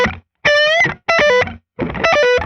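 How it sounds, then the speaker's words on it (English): An electric guitar with heavy distortion plays a quick lick mixing picked notes and pull-offs, in three bright bursts separated by short gaps, loud and close with no talking. "it's just a pick, pull off combination"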